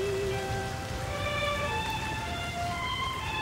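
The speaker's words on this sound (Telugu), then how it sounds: "బయట చల్లగా వర్షం పడుతుంది" Steady rain falls outside in a continuous wash, with faint tonal lines of background music running over it and no voices.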